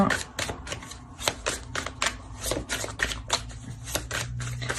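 Tarot cards shuffled and handled by hand, with a rapid run of crisp flicking riffs repeating steadily across the whole stretch, close and fairly soft.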